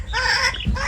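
Japanese chickens give a short burst of clucking, a close, loud bird call lasting under a second, with no talking.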